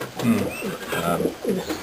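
Racing pigeons coo close by in a series of soft, rounded, repeated calls, three or four swelling phrases in quick succession with faint background noise.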